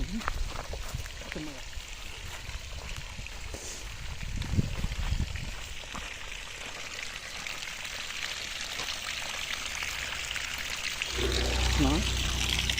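Water pours and trickles steadily through a drip irrigation pipe in a chilli field, a continuous close wash with a louder surge near the end, while someone talks over it.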